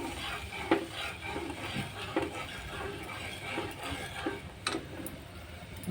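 Milk being stirred in a heated pan for mango ice cream, with sugar added, giving a steady scraping swirl and occasional spoon clinks against the pan, close and continuous with no talk.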